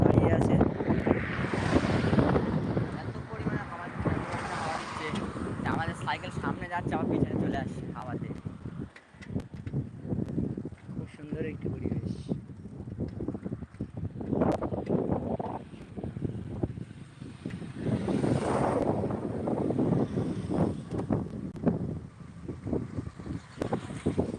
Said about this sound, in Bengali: আর এখানে খুব সুন্দর হাওয়া দিচ্ছে